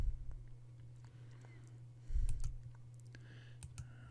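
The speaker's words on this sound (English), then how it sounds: "We'll click on this guy here and then click the connect button." Computer mouse clicks on a simple web page, a few sharp, quiet, isolated clicks spaced irregularly over a low steady hum, with a brief bump of handling noise in the middle.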